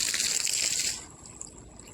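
Water gushing from a pipe on a flat rooftop, a bright steady splash for about a second that then cuts off, leaving faint dribbling and quiet.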